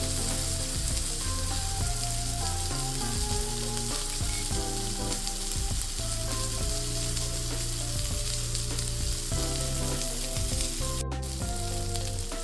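A ribeye steak sears in a pan with a dense, steady, close sizzle that holds its level the whole time, while melodic background music plays beneath it; no one talks.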